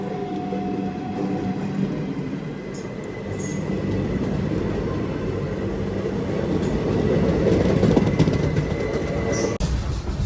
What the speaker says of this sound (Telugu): ఈ ట్రైన్ లేక మన ట్రైన్ వెళ్తుంది అనుకుంటా అదే ప్లాట్ఫామ్లోకి